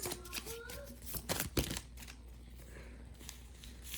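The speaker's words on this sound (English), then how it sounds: "I'm just gonna do a couple more shuffles." Cards are riffled and shuffled in quick papery bursts, a few louder snaps among steady rustling, with faint talk in the background.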